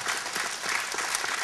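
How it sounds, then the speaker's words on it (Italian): An audience at a Sassari folk song program applauds for Ginetto Ruzzetta, a short, steady patter of clapping from a crowd. "Facciamo un applauso a Ginetto che è qua."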